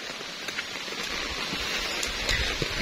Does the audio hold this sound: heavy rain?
yes